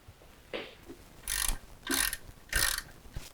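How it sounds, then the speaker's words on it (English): A ratchet tightens bolts on a full carbon fiber BMW S1000RR motorcycle: several close, crisp clicking bursts come in a steady back-and-forth rhythm, with no talking. "I'm going to tighten those bolts now."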